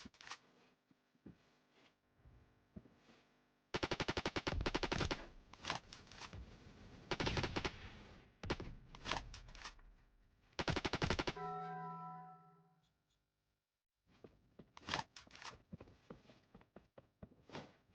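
Rapid automatic gunfire in the Roblox shooter Phantom Forces, with dense bursts of sharp repeated shots, a brief pause with a reload-like mechanical clatter, then more short bursts; close and loud, no talking.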